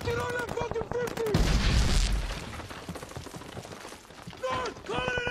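Heavy gunfire in a war battle scene, with a loud blast and a dense burst of shots under shouted voices and a sustained music tone, continuing in rougher rattling volleys.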